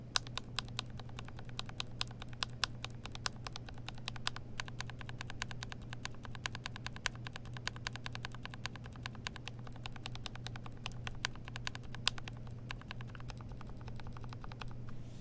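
Steady, fast typing on a mechanical keyboard with SMD clear switches, a close, dense run of crisp clacks with no talking.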